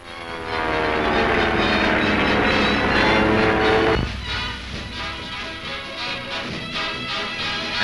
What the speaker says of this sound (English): Approaching their objective, they roar down in a power dive.